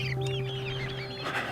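Large, very tall chicks cluck in a run of soft, overlapping chirps over a steady mechanical hum, close and fairly quiet, with a brief louder burst near the end.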